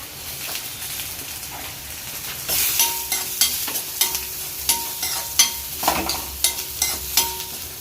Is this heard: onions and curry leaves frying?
yes